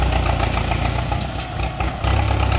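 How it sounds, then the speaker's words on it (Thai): A Ford Super Major tractor engine runs steadily with a deep, throbbing low rumble while uprooting a rosewood tree, dipping briefly in load before surging back up. "รถไถซุปเปอร์ทอน"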